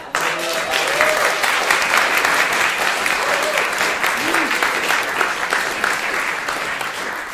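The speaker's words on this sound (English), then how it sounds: "Can we get one more round of applause for it?" Loud, sustained audience applause at a guitar festival, a dense wall of clapping with a few cheers and whoops rising over it before it gradually eases.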